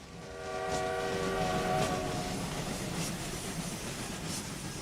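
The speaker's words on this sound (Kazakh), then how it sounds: "Жоқ, бұл Мейнфилден келген пойыз." A train pulls in or passes at a station, a loud steady rumble of wheels and carriages with a sustained horn tone early on, close and alone without voices.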